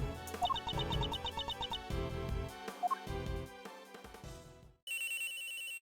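Phone ringtone in the Ace Attorney Investigations 2 video game, a chirpy electronic melody looping over background game music, ending in a sustained bright trill.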